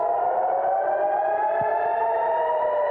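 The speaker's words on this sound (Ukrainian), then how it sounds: "Над ним воють сирена." An air raid siren wails steadily and loudly throughout, a sustained droning tone with no talk over it.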